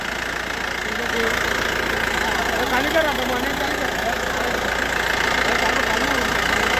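A new Mahindra Bolero's engine runs at a steady, even, low rumble close by as the car moves forward, with voices talking faintly over it.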